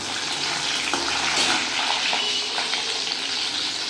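Loud, steady sizzling of cashews and chillies frying in hot oil, close by, with faint scrapes of stirring and no voices.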